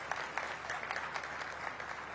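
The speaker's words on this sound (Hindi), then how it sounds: "आप तालियां बजाकर इनका स्वागत करिए" Audience applause welcoming a guest at an industrial festival in Vidarbha, a fairly faint, even patter of many hands clapping continuously, heard from some distance with no voices over it.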